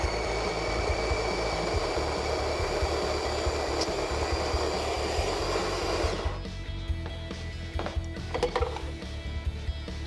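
Burr coffee grinder set to a fine-medium grind, running on a 30-second timer through home-roasted coffee beans, a steady close motor whir that cuts off partway, leaving quiet handling clicks and rustles.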